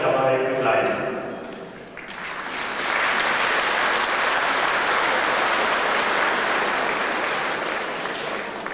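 A hall audience at a Mother's Day gala in Ohrdruf breaks into applause as a fanfare band marches out. A brief voice and tonal sound come first, then full, even clapping swells and holds steady.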